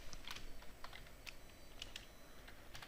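Computer keyboard typing code, a handful of quick light key taps in short irregular bursts, close but quiet, with no voice.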